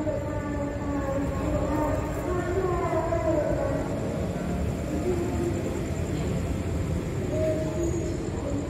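An executive passenger train rumbles steadily past Gondangdia station at night with a continuous rolling drone and tonal whine, a long even passage with occasional faint voices.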